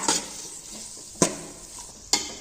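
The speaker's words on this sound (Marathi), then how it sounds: "मसाले छान असे फ्राय करून घ्यायचे मध्यम गॅसवरती" Whole spices frying in oil on a medium gas flame for veg pulao, a steady soft sizzle broken by three sharp scraping stirs of a spoon against the pan.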